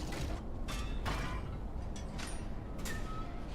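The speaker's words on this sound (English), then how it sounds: "There's a shortcut door here." A heavy shortcut door swings open in the video game Lies of P, giving a low mechanical creak and grinding with a few sharper clanks, fairly quiet and heard alone.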